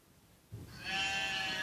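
Sheep from a farm flock of nearly 300 animals in Belgium bleat in a sustained, overlapping chorus that rises after a brief low rumble, moderately loud and continuous with no talking.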